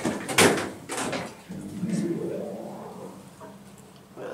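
Elevator doors in a Glasgow car park lift slide shut with a short rumble and a thud. The lift motor hum follows, while a person talks nearby.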